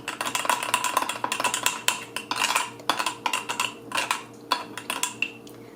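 Fermented mustard is stirred into cabbage in a jar with a utensil, giving a quick, irregular series of close clinks and scrapes against the glass, with no talking.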